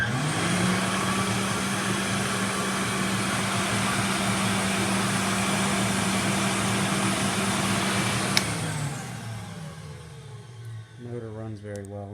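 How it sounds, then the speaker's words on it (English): Rainbow D3C water-basin vacuum cleaner motor running at a steady high whine with a constant low hum, close and loud, then switched off and spinning down near the end, with a person talking over the final seconds. "Motor runs very well in this."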